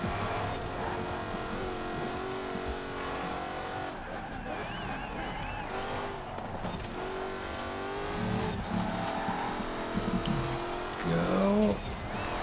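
Race car engine in the video game Forza Horizon 4 during a seasonal event, a continuous loud revving roar with gear shifts, rising and falling pitch and brief tire squeal near the end.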